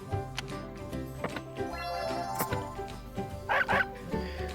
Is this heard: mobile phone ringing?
no